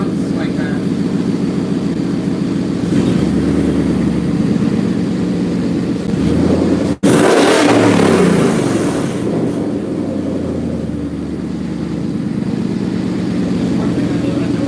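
A twin-turbo 2019 Ford Mustang GT with full exhaust and dumped wastegates: its deep, rumbling engine revs and idles loudly throughout, with a sharp burst of harsher, airy roar midway.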